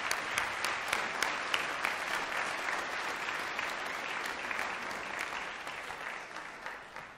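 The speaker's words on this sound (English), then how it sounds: "Let's give them a round of applause." A graduation convocation audience applauds the Fred Fox School of Music faculty brass quintet, sustained steady clapping with sharp individual claps standing out, fairly quiet and distant, no voices.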